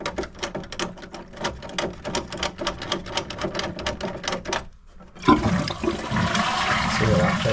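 Toilet flushing in a house after a plumbing repair: a run of rapid clicking from the mechanism, a brief pause, then a loud rushing surge of water as the cistern empties and begins refilling, close and steady.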